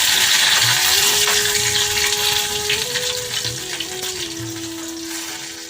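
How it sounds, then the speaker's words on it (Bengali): Whole cumin, dried chillies and bay leaves sizzling in hot oil in a kadai, a loud close crackle that slowly fades, with a faint tonal hum running underneath. "এবারে আমি ফোড়নে দিচ্ছি গোটা জিরে, শুকনো লঙ্কা আর তেজপাতা"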